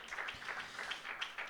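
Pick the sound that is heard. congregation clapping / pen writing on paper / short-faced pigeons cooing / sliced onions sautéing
congregation clapping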